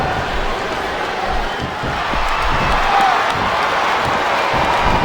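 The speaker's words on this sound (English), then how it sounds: "Sounds like this crowd's got something on their minds, King." A large crowd roars continuously in a big arena in the video game WWE SmackDown vs. Raw 2007, a dense steady wash of voices that swells slightly midway.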